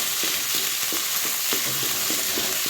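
Drumstick leaves fry in ghee with a dense, loud sizzle, punctuated by quick rhythmic stirring strokes, close and with no speech.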